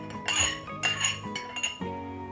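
A spoon clinks against a glass dish while stirring a calamansi and soy sauce dip, giving a few quick bright metallic taps and scrapes, close up and with no talk.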